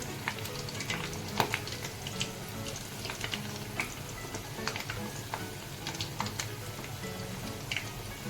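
Half-boiled potatoes deep frying in hot oil, a steady close sizzle with scattered pops and crackles running throughout.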